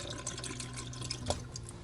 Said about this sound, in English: Let the water rinse it down into the tank.